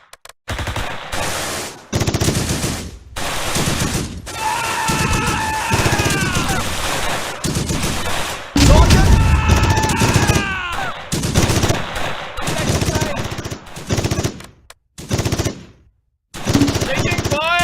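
Heavy gunfire in a Close Combat war game battle, with sustained machine gun bursts and rifle shots rattling almost without pause, a deep explosion-like boom near the middle, and shouted soldier voices breaking in over the firing.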